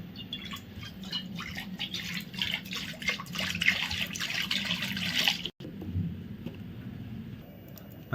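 Water poured into a cooking pot for a leafy saag dish, a close, splashing, trickling stream lasting about five seconds before stopping abruptly, followed by quieter room sound.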